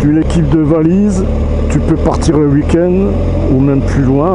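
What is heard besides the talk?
None of the usual background noises is heard.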